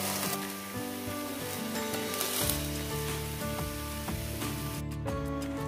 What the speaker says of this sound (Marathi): मस्त भाजलं हे थालीपीठ